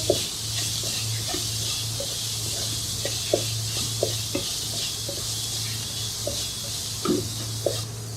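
Cauliflower and spices get stirred in a pan, giving repeated scraping clicks of a spoon against the metal at an irregular rhythm over a soft sizzle and a steady low hum.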